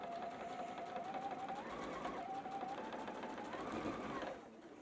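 A sewing machine stitches quilt block pieces in a continuous steady whir, its motor pitch rising and falling slightly as the speed changes, fairly quiet and close, stopping near the end.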